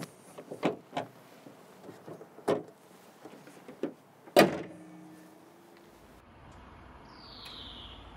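A Renault Captur TCe 100 Experience has a panel closed with one solid thud, after several lighter clicks and handling knocks, then a quiet stretch with faint background hum.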